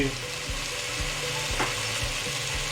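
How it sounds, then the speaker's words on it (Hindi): Paneer frying and being stirred into a tomato masala for dhaba-style malai paneer, a steady close sizzle with regular scraping strokes of a spoon against the pan, no talking. "अब इसमें हम अब पनीर ऐड कर देते हैं और थोड़ी देर उसको पनीर को 2 मिनट इसमें हिलाएंगे"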